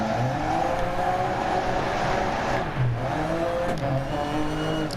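A front-wheel-drive rally car from DiRT Rally 2.0 drones steadily on tarmac, its engine note rising and dipping through gear changes, loud and close with no talking.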